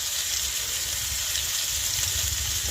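Spices sautéing with potato and pumpkin in a pan make a steady, even sizzling hiss that holds without a break, close and fairly loud.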